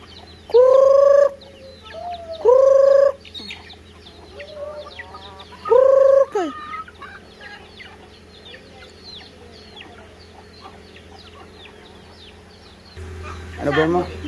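Chickens on a Filipino farm cluck and cackle close by, with three loud, drawn-out crows or squawks early on and chatter of smaller clucks between, ending with a brief burst of noise.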